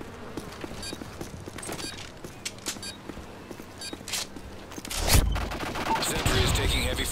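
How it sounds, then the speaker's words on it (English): Gunfire in Modern Warfare 3 survival mode on the Sea Town map, scattered sharp shots and bursts throughout, building into a denser, louder barrage in the final two seconds. "Sentry is taking heavy fire."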